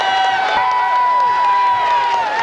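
A large crowd at a 1996 high school football game between the John Glenn Little Muskies and the Sheridan Generals roars continuously with cheers and shrill whoops, loud and dense throughout with no break.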